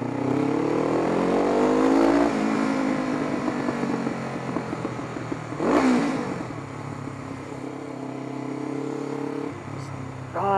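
A motorcycle is ridden along the road. Its engine gives a continuous, fairly loud drone, with one rising rev surge about midway.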